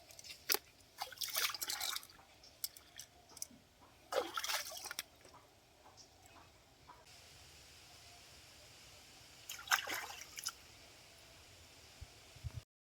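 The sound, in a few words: washing crab and fish pieces in water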